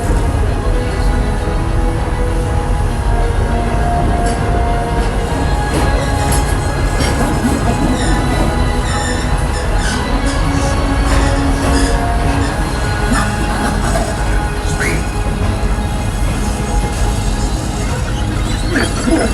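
Steady rumble and clatter of the Walt Disney World Railroad steam train, pulled by the Lilly Belle or Roy O. Disney locomotive at Magic Kingdom, rolling continuously with occasional faint voices and announcements over the ride.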